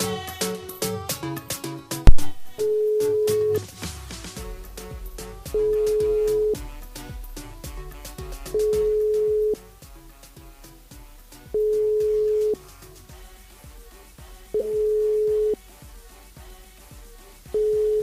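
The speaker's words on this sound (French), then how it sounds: "On appelle Karim du côté du port." A telephone call being placed during a live radio show, with repeated evenly spaced ringback tones in long beeps separated by pauses, clear and steady, with music quietly underneath.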